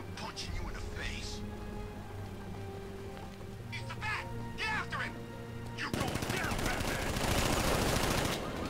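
Enemy gunmen open up with machine gun fire in Batman: Arkham Knight, a dense, loud burst of rapid shots erupting in the last few seconds after game ambience with chattering voices and whispery sounds.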